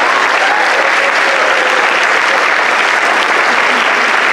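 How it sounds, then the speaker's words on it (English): A jazz show crowd gives a round of applause to three combo students from a high school vocal jazz program, loud, dense, continuous clapping that fills the room without a break. "would you give those three students back there a round of applause?"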